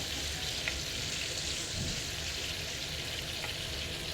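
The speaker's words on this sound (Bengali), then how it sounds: "দেখেন আমি এখন ভেজে নিচ্ছি, ওটা হালকা ভেজে নেব।" Shing fish (stinging catfish), cut, washed and coated with salt and turmeric, frying lightly in hot oil, with a steady close broadband sizzle and faint crackles throughout, no voices.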